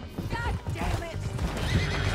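Horses in the Red Dead Redemption 2 video game whinny with rising and falling cries while hooves clop and thud beneath, all close and loud amid busy action, with a voice calling over it.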